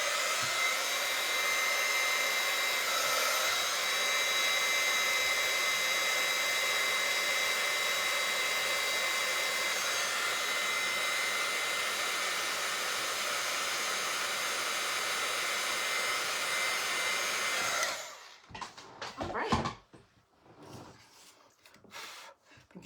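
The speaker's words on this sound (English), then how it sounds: "All right, get our heat tool, do a quick heat." An embossing heat tool blows hot air over embossing powder on a paper card, a loud steady whine and rush that runs for about eighteen seconds, then cuts off into a few faint handling sounds.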